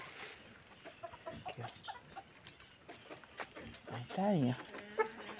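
Backyard hens cluck and chatter near a nest being built for them, in soft, intermittent calls with a louder drawn-out squawk near the end, while a person briefly speaks.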